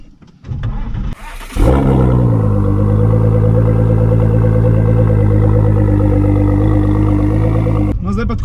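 A Ford GT's engine cranks and catches with a sharp burst, then settles into a loud, deep, steady idle with a raised rev before cutting off near the end.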